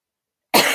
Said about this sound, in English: Oh no, I coughed into my hand.